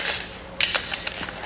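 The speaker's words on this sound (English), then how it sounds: "I'll go ahead and attach the ratchet wrench to make it a little easier for me. And turning clockwise, bring it together very slowly." A ratchet wrench tightens bolts on a PLP stainless steel splice closure, giving a few quick bursts of crisp metallic clicking separated by brief pauses, loud and close.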